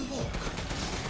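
Rapid gunfire from Resident Evil Village aimed at a boss, a dense burst of overlapping shots filling the moment under a faint voice.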